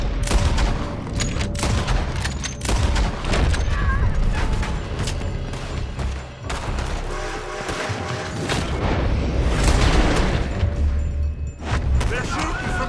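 Dense Red Dead Redemption 2 gunfight, with shots fired from a building cracking in quick irregular volleys and booming echoes, mixed with heavy game ambience and shouting voices throughout.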